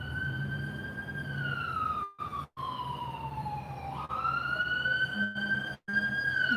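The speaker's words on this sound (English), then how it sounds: "Just wait for that siren by." A wailing emergency siren sweeps up and down steadily as it passes by, fairly close and clear, with faint background hum and a couple of brief dropouts.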